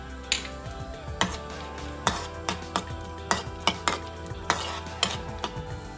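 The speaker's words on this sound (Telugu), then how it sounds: "ప్యాన్ పెట్టి కొంచెం గీ వేసుకొని కట్ చేసుకున్న క్యాష్యూస్ వేయించుకున్నాం" Chopped cashews frying in ghee in a pan for sweet payasam, a low sizzle under repeated quick metallic taps and scrapes of a stirring spoon at an uneven rhythm, close up, with no talk.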